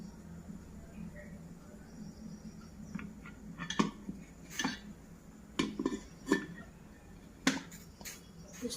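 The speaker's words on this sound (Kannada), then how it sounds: "ನಮ್ಮದು ಕುಕ್ಕರ್ ಇರ್ತೈತ್ರ, ಅದ್ರ ಮೇಲೆ ಇಟ್ಟು ಸ್ಟೀಮ್ ಮಾಡಬೇಕು" Rice puttu in its steaming mould is set on top of a pressure cooker in a home kitchen. Close, quiet metallic clinks and knocks of utensils come in scattered bursts over a low background hum.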